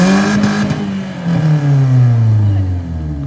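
A BMW E46 318 engine revs hard and steadily as the car spins donuts on a slippery surface, its loud, close drone sliding slowly downward in pitch over a few seconds.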